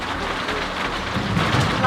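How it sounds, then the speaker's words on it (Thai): Steady heavy rain on a rural farm garden with a low rumble of thunder building toward the end, loud and continuous throughout. "ฟ้าร้องทุกคน"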